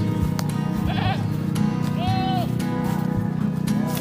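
Pet goats grazing on a backyard farm in rainy weather bleat several times in short wavering calls, some near and some farther off, over a steady outdoor rumble.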